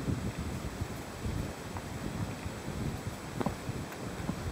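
Icy wind blows across the summit of Beinn na Lap, a steady, dense rumble of buffeting gusts close on the microphone, with no voices.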